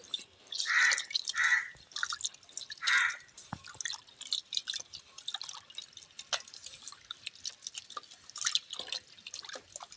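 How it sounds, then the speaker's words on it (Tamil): Soaked tamarind is squeezed and dissolved in water by hand, producing close, wet squelching and sloshing bursts early on, then softer scattered drips and small splashes. "புளி நல்லா ஊறிடுச்சு பாருங்க, போட்டு கரைச்சிக்கலாம்."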